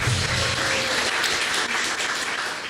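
A church congregation applauding, dense sustained clapping that fills the space and tapers slightly toward the end.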